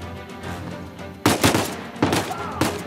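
Gunfire in the Uncharted 4 video game: a sharp burst of shots, then two more loud bangs, with a quieter stretch of ambience before them.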